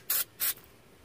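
Two short hissing bursts of aerosol spray, close by and outdoors in wind under a truck, each about a quarter second long, separated by a brief pause, then quiet.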